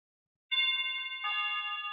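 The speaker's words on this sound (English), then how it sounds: "Let's just press the doorbell button" A clean electronic two-tone chime sounds after a short silence, its bright ringing notes sustaining evenly, close and moderately loud.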